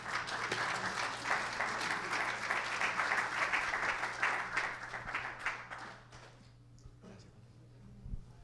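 A church congregation applauding, many hands clapping in a full, sustained burst that thins and fades out near the end, leaving a quiet room with a brief voice and a low hum.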